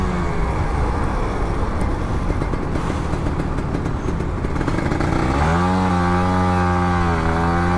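Old Kawasaki Ninja RR 150 motorcycle engine revving hard in second gear, a loud buzzy two-stroke roar that climbs steadily in pitch toward the end, close and continuous.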